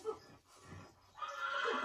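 A horse whinnies in short bursts, with a brief low snort partway through and a louder, rising neigh near the end, heard fairly close with no clear talk over it.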